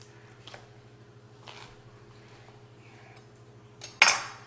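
Knife cutting into a cheese-stuffed guacamole bacon burger with onion, tomato, lettuce and mayo, quiet scrapes and taps of cutlery on a plate over a low hum, ending in a sharp clink of metal.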